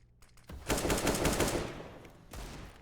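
Counter-Strike gunfire on the Mirage map during a professional match: a close burst of rapid automatic shots, then a pause and a second shorter burst.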